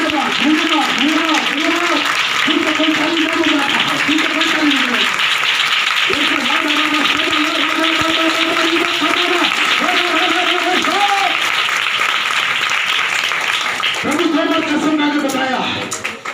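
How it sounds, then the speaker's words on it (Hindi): Church congregation applauding during a Hindi sermon, dense sustained clapping throughout, loud and close, with a voice and tonal music running underneath. "ताली बजाकर"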